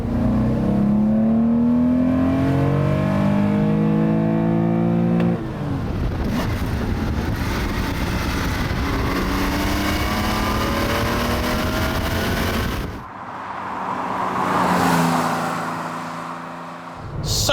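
A Porsche 911 Rennsport Evo S restomod engine revs hard through several rising gear pulls on a back road, loud and close, with brief dips between shifts and a final roaring climb.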